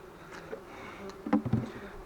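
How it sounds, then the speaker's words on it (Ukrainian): Many wasps buzzing around a beehive frame at an apiary during wax moth cleanup, a low steady insect drone with a few louder close passes near the end. "Ось дуже багато ос."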